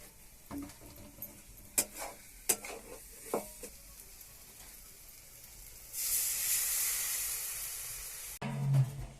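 Water poured into frying onion masala in a pan for shev bhaji makes a sudden loud hissing sizzle that runs for a couple of seconds, after a few soft scraping stirs.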